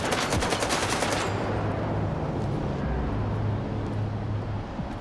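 Sustained rapid assault rifle fire in the Stalker 2 video game, a dense, loud burst of shots lasting several seconds with continuous rattling texture, no voices.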